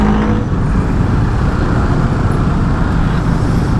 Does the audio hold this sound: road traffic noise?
yes